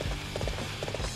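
Horse hooves clop in a quick, uneven rhythm as a rider gallops in the video game Dynasty Warriors 7; the beats are moderately loud and sit over a dense, busy game soundscape.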